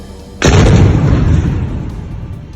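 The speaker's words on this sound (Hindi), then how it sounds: "एक धमाका और पल भर में अल नूर टावर जमींदोज" A single sudden, loud explosive blast collapsing a tower building rumbles on and slowly decays, with a long roaring tail of debris and noise.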